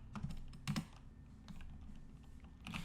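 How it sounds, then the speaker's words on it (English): Commands typed on a computer keyboard in short bursts of close, soft key clicks separated by brief pauses, quiet overall with no voice. "So we can type in ls."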